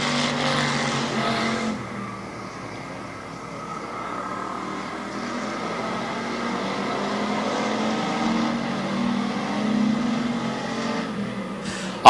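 Race cars roar steadily around the oval on the final lap at Barberton Raceway, a sustained distant engine drone with a rise near the end, no talk over it.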